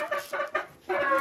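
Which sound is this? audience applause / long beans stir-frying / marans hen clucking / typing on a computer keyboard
marans hen clucking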